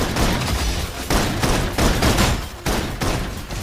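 Dense rapid gunfire in the video game Love and Deepspace: continuous loud bursts of automatic fire with short breaks between volleys, close and harsh, filling the whole stretch without talk.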